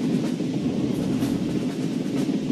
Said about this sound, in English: His driver shut off steam and applied the brakes.